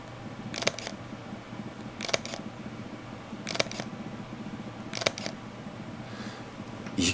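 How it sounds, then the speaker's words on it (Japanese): A Leica M11 camera fires its shutter four times, about one and a half seconds apart, each a crisp, close mechanical click over a quiet room background. "現在の M11 のシャッター音を、聞いていただきたいと思います"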